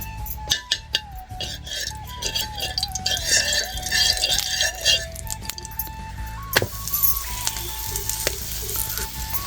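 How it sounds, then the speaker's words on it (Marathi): Onion paratha roasting in ghee on a tawa makes a steady sizzle, with clinks and scraping from utensils and a sharp knock partway through, heard close up. "आता मस्त पैकी आता तयाला तूप लायते आणि लगेच भाजून घेते."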